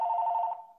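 A telephone rings with one steady electronic bell tone that holds clearly and then fades away, alone with no voices.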